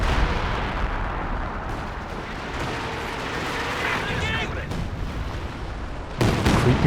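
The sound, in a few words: creeping artillery barrage in the video game Company of Heroes 2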